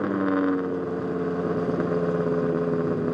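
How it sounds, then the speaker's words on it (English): A 2008 BMW M5 V10 engine swapped into an E30 M3, running a fully open straight-back exhaust and tuned to max power, drones loud and steady with a rich, continuous growl and no one talking. "BMW V10 uncorked, completely open, pretty much straight back, right?"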